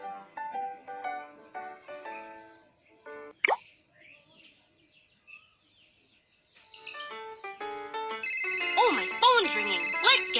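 A phone ringtone plays in a children's police game, starting with a short melodic jingle and then a loud, continuous electronic ringing trill, with game voices talking over it.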